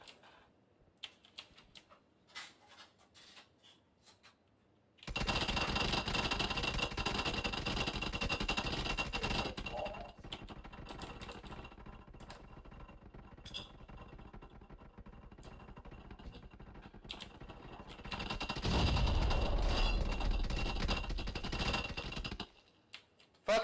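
In a PUBG solo match, gunfire rattles in long, rapid, dense bursts that run for many seconds, after a quiet stretch of faint scattered clicks, then briefly grows heavier and louder before cutting off.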